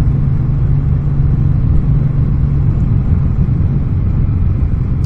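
A Suzuki Boulevard motorcycle fitted with a car engine rumbles steadily on the Great Ocean Road, a loud, close, low engine drone with no talk.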